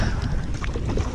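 Strong wind buffets a protected microphone windscreen out on the water while fishing for traíra, a loud continuous low roar with gusty swells throughout and no voices.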